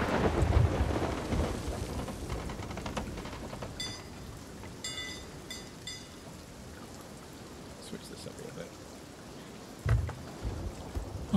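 A thunderstorm rages in the pirate game Sea of Thieves, with steady rain hissing throughout, a deep rumble of thunder at the start, and another low roll of thunder near the end.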